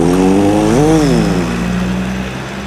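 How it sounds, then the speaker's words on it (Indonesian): A car passes by with a loud, close engine drone that rises and bends in pitch as it goes past, then fades slightly into a steady hum. "Suara mobil melintas"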